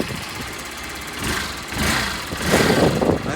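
A salvaged motorbike engine fires up and runs, a rough close-up idle that swells and revs louder toward the end, no talking.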